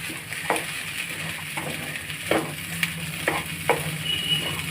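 Kadhamba sundal sautés in a pan with asafoetida for Navaratri. A steady soft sizzle runs underneath, broken by several sharp scrapes and clinks as a spoon stirs against the pan at close range.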